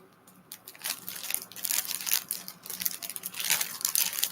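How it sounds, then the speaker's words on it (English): Close, crunchy chewing with irregular crackling bites that grow denser and louder over several seconds, with no talking. "It's a lot of chewing."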